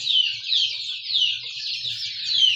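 A dense, continuous chorus of high peeping comes from a flock of 32-day-old Andijan black chicks eating grain, close and steady, with no talking.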